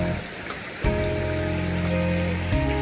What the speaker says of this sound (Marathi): हे जे पाणी येते ते धबधब्याचं पाणी आहे.